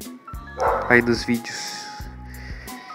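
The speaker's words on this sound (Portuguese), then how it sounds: "Deixa o like pra esse dog que está latindo" A household dog barks in short bursts at the start and again near the end, fairly close, mixed under a person talking in Portuguese.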